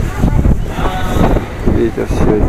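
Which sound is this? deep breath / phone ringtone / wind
wind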